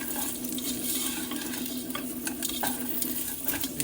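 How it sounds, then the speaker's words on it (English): Meat sizzling steadily in a pan of sugar and oil as it caramelizes, a dense continuous frying hiss with occasional soft crackles, close and loud throughout. "So now I'm gonna go ahead and add my meat in."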